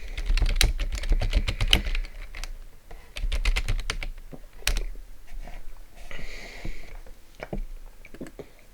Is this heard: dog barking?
no